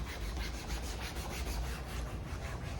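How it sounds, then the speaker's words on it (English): A couch sprayed with a cleaning mixture is scrubbed with a brush, a rapid rhythmic back-and-forth rubbing of bristles on fabric, close and steady throughout. "So he is scrubbing the couch. I sprayed it with our mixture, and he is scrubbing it."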